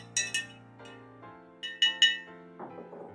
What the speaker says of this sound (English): I'm going to give that a little stir.